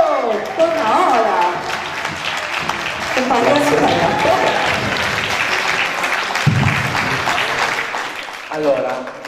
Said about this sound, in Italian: Li accogliamo però con un grande applauso.